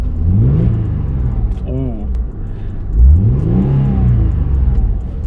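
A voice imitates a car engine revving for a newly bought car, with rising and falling vroom-like bursts, close and loud, and a brief vocal sound among them.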